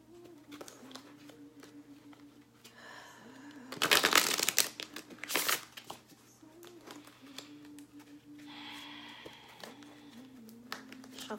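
Tarot cards shuffled by hand, a brief loud burst of riffling and crinkling in the middle followed by softer card handling, set against a steady low hum in a quiet room.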